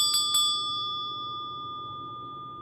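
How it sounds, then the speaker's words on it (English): A small bell for the solar plexus chakra is struck twice in quick succession, then rings out in a clear, sustained metallic tone that slowly fades in a quiet room. "I'm going to ring the solar plexus bell for you just to clear that chakra"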